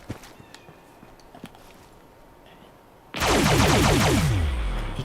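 The Quad Automatic Alien Disintegrator in Fallout 76 fires a loud, sweeping energy burst with descending tonal sweeps after a few scattered faint clicks.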